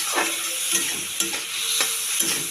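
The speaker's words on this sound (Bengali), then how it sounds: "দিয়ে আমি মশলাটা ভালো করে কষিয়ে নিয়ে" Potatoes are sautéed in a pan with spices, cumin powder and a little sugar. A spoon stirs them with a few scraping knocks, over a continuous close sizzle.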